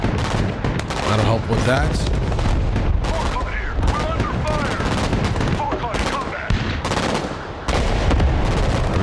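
Dense suppression fire in the strategy game Broken Arrow, with continuous rattling gunfire punctuated by heavier artillery booms, loud and sustained while a voice speaks briefly over it.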